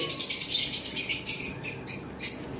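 High, rapid chirping from lovebirds, continuous and fairly close, with no voices.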